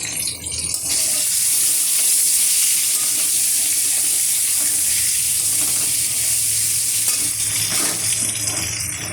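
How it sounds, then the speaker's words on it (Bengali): Eggs frying in a wok give a loud, continuous, close sizzle throughout, steady and unbroken with faint crackle. "ডিমগুলোকে ভেজে নিচ্ছি সুন্দর করে।"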